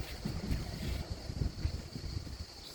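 Outdoor wind buffets the microphone in steady, rumbling gusts while thin sheets of store-bought yufka pastry are cut, with no talking.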